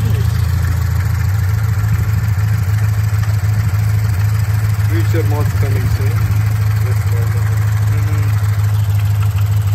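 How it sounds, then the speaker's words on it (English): A Toyota 86 GT's 2-liter boxer engine idles steadily with a low, even hum throughout, while a few words are spoken briefly over it. "This is a 2-liter boxer engine."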